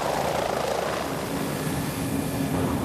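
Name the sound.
helicopter flying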